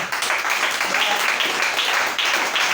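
An audience claps in steady, dense applause that carries on for a few seconds, with a voice faintly underneath.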